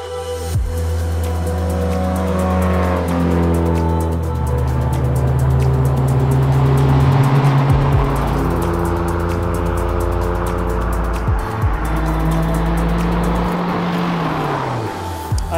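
A Honda S2000 sports car engine revs hard toward about 9,000 RPM, loud and close, with rising and falling pitch sweeps as it climbs through gears, no talking.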